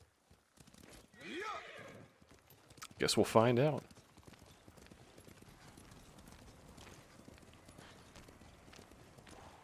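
A white horse in the video game Ghost of Tsushima whinnies briefly, then gives a louder, sharper neigh, with soft hoof clops continuing after and a voice speaking briefly.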